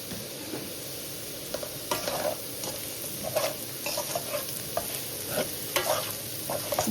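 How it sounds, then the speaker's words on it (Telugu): Beetroot frying in a pan as it is stirred, a soft continuous sizzle broken by repeated scraping and tapping strokes of a spoon, close by and with no talking. "ఇంకొంచెం వేగనిచ్చి"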